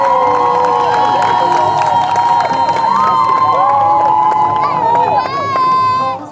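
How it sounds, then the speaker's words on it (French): Guests at a Gabonese civil wedding cheer and applaud the witnesses, a loud close burst of shouting, clapping and high ululating voices, growing more intense near the end. "On applaudit pour eux."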